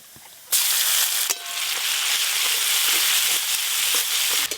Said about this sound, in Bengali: এই যে থেতো করে রাখা আদা দিয়ে দেবো এবার।